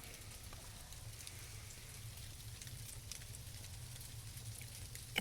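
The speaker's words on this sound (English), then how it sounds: "It's raining fucking styrofoam." Sleet pellets patter steadily during a Texas blizzard in a backyard, a faint, even hiss of tiny ticks falling onto surfaces without a break.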